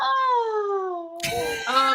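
A cat meows, giving a long, drawn-out meow that slides downward, then a shorter wavering one right after, close and clear.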